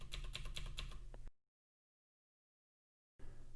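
Computer keyboard typing in rapid bursts of close, crisp keystrokes, breaking off into silence for nearly two seconds before the clatter resumes.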